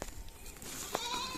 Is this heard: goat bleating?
yes